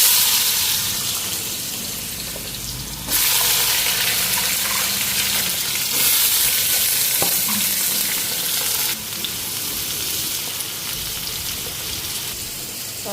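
Potato and ash gourd sizzle loudly in hot oil tempered with dried red chilli, bay leaf and cumin, a steady close frying hiss with occasional stirring clinks.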